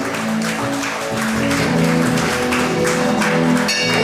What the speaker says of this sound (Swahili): Tupigie Yesu makofi mengi sana.